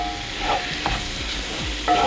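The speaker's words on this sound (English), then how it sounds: "I need the mushroom to cook up and release all that liquid" Mushrooms and thyme cook in a pan with a steady, close sizzle. A few scrapes and stirring knocks break through it, and nobody speaks.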